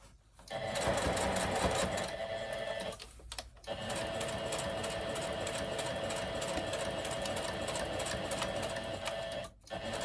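A sewing machine runs steadily while stitching a fabric Christmas gift card holder, with loud continuous whirring and rapid needle clatter, broken by two brief pauses and a short stop near the end.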